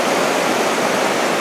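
Hot spring water at Yellowstone pours into a river with a steady, loud, broadband rush of flowing water, close and unbroken throughout, with no voices over it.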